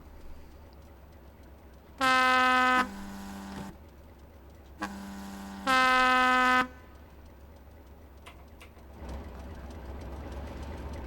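A two-tone train horn sounded twice in Train Simulator 2021 on the London to Brighton route, each time a loud high blast dropping straight into a lower tone, over a steady low engine hum.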